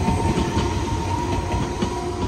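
A train rumbles past close by in Fukuoka, Japan, a continuous heavy roar with faint rhythmic clacking of wheels on the rails.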